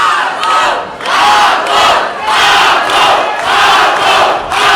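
A loud arena crowd at a championship fight roars and chants for fighter Abo Asatiani in rhythmic surging waves, sustained and close, with no voices above the din.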